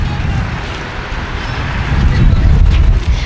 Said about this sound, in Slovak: Trošku tu fúka, ale to je pochopiteľné.